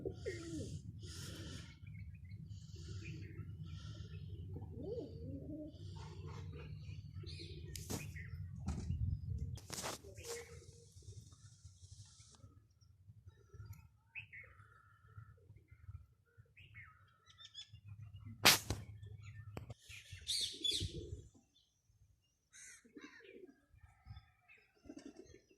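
Pigeons coo and chirp in a foggy, cold village, soft repeated calls mixed with occasional tweets, sharp knocks and low background rumble, fairly faint and close by.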